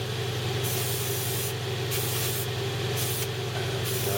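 An airbrush sprays paint onto a Bandai Halo Master Chief model kit with a steady close hiss, pulsing in and out as the trigger opens and closes, over a constant compressor hum.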